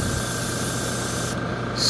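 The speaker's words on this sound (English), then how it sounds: "you can use hardware store lacquer thinner for cleaning your airbrush out" An airbrush sprays lacquer thinner through during cleaning, a loud continuous close hiss that cuts off briefly before resuming.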